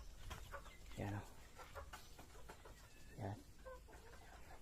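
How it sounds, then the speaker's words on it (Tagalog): Pet chickens cluck in short, soft bursts, with two louder clucks standing out. They sound fairly faint and distant against quiet outdoor background noise. "Dami nilang mga manok dito guys na"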